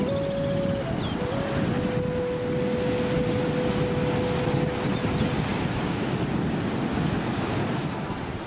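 Ocean waves washing against rocks along a sunrise coastline, a steady, dense roar of surf with wind rushing across the microphone, continuous and fairly loud throughout with a brief tonal hum early on.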